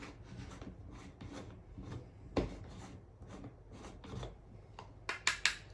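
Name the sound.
herb grinder grinding a cannabis bud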